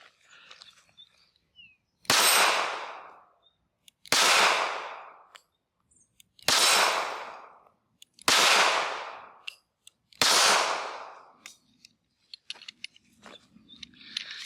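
Five sharp, loud shots from an SCCY CPX-2 9mm pistol ring out one by one, spaced roughly two seconds apart, each with a short decaying echo and quiet between.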